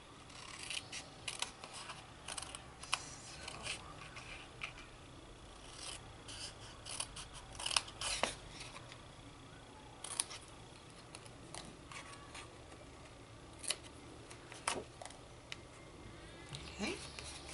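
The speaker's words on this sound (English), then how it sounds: "Cut up to the second score line, remove the rectangle, and repeat on the other side." Scissors cut through a paper box template in repeated short snips and rasping strokes, close and fairly quiet, alongside small handling rubs.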